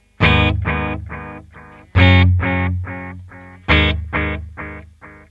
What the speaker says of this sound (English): I'm going to show you the setting we've got on delay 1. It's a mid-length delay.